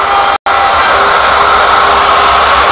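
Ruvo 800A door mortising machine routing out a strike jamb: a loud, steady broadband motor whine with a high router hiss, cut by one brief dropout near the start, then running continuously with no talk.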